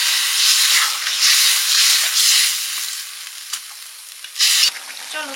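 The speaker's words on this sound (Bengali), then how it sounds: "তেলটা থেকে তেল বেরিয়েছে মাছের তেলপট্টা থেকে। এবার জল দিয়ে দেবো।" Water is poured into a hot pan holding oil rendered from fish fat, and it sizzles loudly in hissing bursts. The bursts fade and then flare up again near the end.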